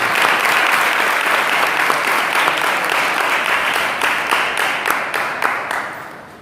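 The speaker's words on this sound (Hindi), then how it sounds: "उन्हें भी हम तालियों से बजाकर" Sustained audience applause at an inauguration ceremony, dense and loud from the start, gradually thinning into distinct individual claps near the end.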